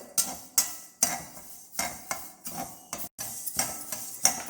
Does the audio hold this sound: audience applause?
no